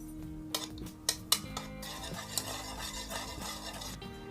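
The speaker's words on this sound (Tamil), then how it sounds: "இப்போ இதை வந்து கலக்கிக்கலாம்." A single egg beaten in a bowl, a run of quick clinks and scrapes with a few sharper taps against the rim, close and alone with no talk.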